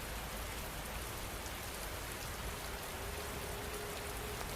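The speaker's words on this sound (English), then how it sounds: "the rain outside is settled into that deep, steady pattern that only midnight storms seem to know" Steady rain pours outside during a midnight storm, a dense, even hiss of drops on surfaces that holds unbroken and fairly soft throughout, with no voices.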